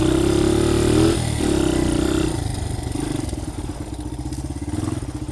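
A dirt bike engine running as it is ridden, a steady close motor drone with a higher whine that drops after a couple of seconds into a rougher lower chug.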